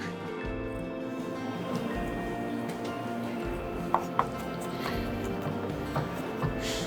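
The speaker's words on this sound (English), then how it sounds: "Chop this up really nice. Pulverize it." Garlic being chopped with a sharp knife on a board, rapid close taps over a steady background hum, with a couple of sharper knocks partway through.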